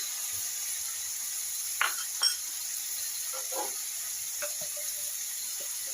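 Ginger, garlic and green chili paste fries with onion and tomato paste in a pan, a faint steady sizzle with a few soft stirring knocks and scrapes.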